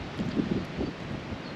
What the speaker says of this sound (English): The wind is horrible.